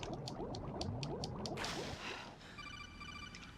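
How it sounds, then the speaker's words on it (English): Seawater pumped up and pouring into a flooded building in Metal Gear Solid 2, a churning, bubbling rush of liquid with some ringing tones and shifting splashes, steady and fairly close. "The seawater that's been pumped up is pouring into the building."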